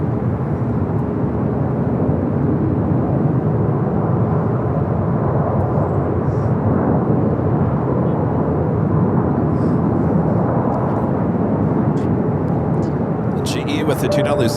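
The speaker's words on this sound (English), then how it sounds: "the A380 Super heading over to 24 left" Airbus A380 jet at Los Angeles International Airport heading toward runway 24 left, a steady, loud broadband roar of engine noise holding level throughout, with a brief higher hiss near the end.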